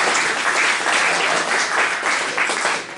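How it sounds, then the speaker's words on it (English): An audience at a conservation community gathering breaks into loud, sustained applause, a thick continuous roar of many hands that holds steady for about three seconds without any talking. "Let's give another round of applause for Mississippi Valley Conservative"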